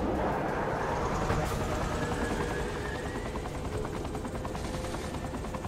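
A helicopter in the video game Saints Row The Third makes a steady, dense rotor and engine drone that fills the whole stretch at an even, fairly loud level, with faint gunfire-like ticks mixed in.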